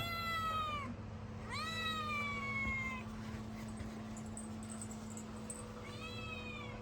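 A cat gives three drawn-out meows, two close together and a third after a pause, fairly quiet and near, over a faint steady electrical hum.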